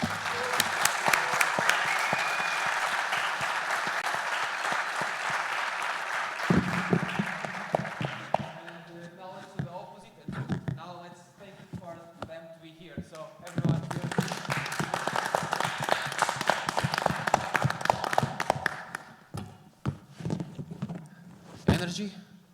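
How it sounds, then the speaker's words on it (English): A conference audience bursts into a loud, sustained round of applause for the speakers, dense clapping that swells, dips briefly, then surges again with scattered cheers mixed in. "give the biggest round of applause ever to our amazing speakers"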